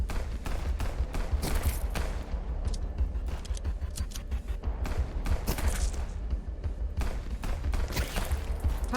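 Gunfire in the game Frontline Zed crackles in rapid, close bursts, shot after shot in an uneven, continuous volley.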